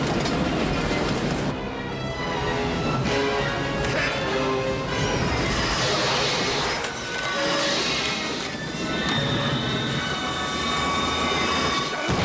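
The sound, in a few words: train being wrecked in film stunt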